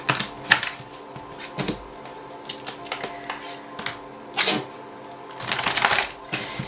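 Tarot cards being shuffled poker-style in several quick, crisp bursts with short pauses between them, close by.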